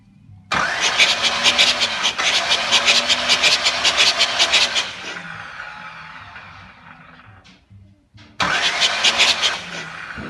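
A Pontiac 400 V8 being cranked over, starter whirring in long loud close bursts with a steady beat. The first burst runs several seconds and winds down, and a second burst follows after a short pause.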